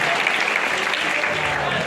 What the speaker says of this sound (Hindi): थैंक यू वाली क्लैपिंग होनी चाहिए